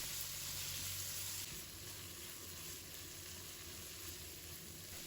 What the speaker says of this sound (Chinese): 我们把西红柿也加进来，快速的将西红柿炒出汁水